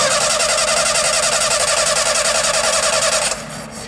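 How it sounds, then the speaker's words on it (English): Car engine cranking and struggling to start in a comedy sketch, a loud rapid rhythmic starter churn that runs for several seconds and then cuts off. "Tired of engine starting problems but can't afford expensive repairs?"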